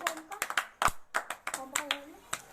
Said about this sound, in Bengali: সুইটি এবং নীলাশা দুইজনের জন্য জোরে হাততালি দাও